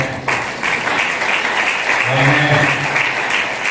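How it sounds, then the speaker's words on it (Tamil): Congregation applauding at a Tamil Christian church service, steady dense clapping throughout, with a low voice or tone faintly beneath. "உங்களுக்கே ஒரு நல்ல கைதட்டு தட்டுகிறேன்"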